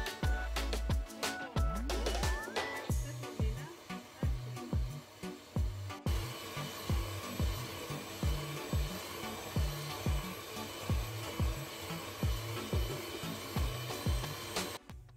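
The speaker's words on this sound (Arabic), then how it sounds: "دابا راني خدمت هذاك الصفر ديال البيض مع السكر البني" An electric mixer whips egg yolks with brown sugar in a bowl, its motor whirring loudly and steadily with a regular pulsing throb from start to finish.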